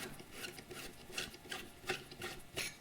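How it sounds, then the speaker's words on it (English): A screwdriver turns out small screws on an old Tomboy 8-track player, making faint, close, rhythmic scraping and rasping strokes repeated about every half second. "So I have to unscrew that as well via these two screws."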